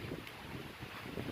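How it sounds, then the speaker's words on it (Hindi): Strong wind gusting outdoors near a peepal tree, a continuous broad roar with rumbling buffeting against the microphone, fairly faint and steady throughout. "आज तेज़ हवा बहुत चल रही है"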